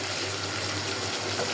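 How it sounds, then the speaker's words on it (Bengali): Water runs and splashes steadily into a pot of cooking chicken meat, a close continuous pour with no voices. "পানি দিয়ে দিব মাংসটা সেদ্ধ হওয়ার জন্য।"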